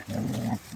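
A dog at a rubbish dump growls low and steadily for about half a second, close and fairly loud, then the rumble fades.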